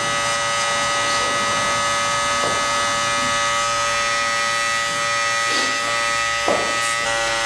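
Electric hair clippers buzz steadily and close by as they cut a mullet with the guard half open, a constant motorized hum with small shifts in tone as the blades move through hair.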